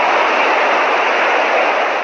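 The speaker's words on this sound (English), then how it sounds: "It's the sound of floodwaters that have turned the railway tracks into a raging river." Floodwaters roar through a flooded subway tunnel in Zhengzhou, the rail tracks turned into a raging river, a steady, loud, unbroken broadband rush with no pauses.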